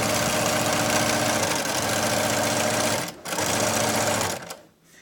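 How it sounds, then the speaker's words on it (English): A 2003 Bernina Artista 200 sewing machine sews in a loud, steady, close whirring drone with rapid needle rhythm, briefly dipping near three seconds and stopping at the end. "Here we go. And we'll sew. Now remember, this machine is from 2003"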